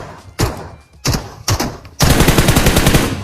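Gunfire in the mobile battle royale game PUBG Mobile: a few single loud shots, then a sustained close burst of automatic fire, with no talk.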